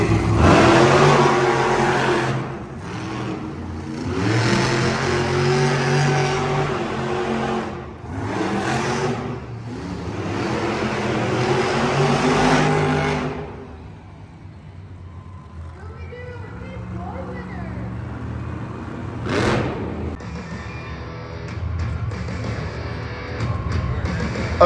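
Monster trucks roar and rev loudly inside an arena in Tucson, Arizona, engines surging in repeated bursts with heavy rumbling, then fading to a quieter stretch with a sharp accent near the end; voices are faintly mixed in.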